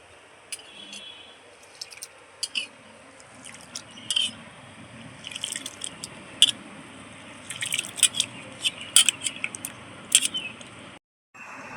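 Lentils being washed by hand in a bowl of water, with soft sloshing and squishing and scattered drips and splashes that grow busier, close and without speech.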